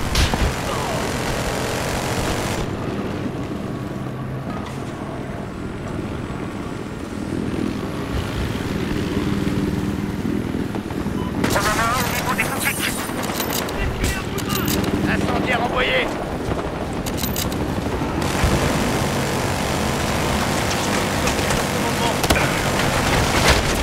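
A helicopter in the video game Battlefield Hardline, a loud continuous rotor and engine roar throughout, mixed with game noise and bursts of talk.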